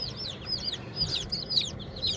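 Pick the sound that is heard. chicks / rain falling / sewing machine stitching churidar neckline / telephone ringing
chicks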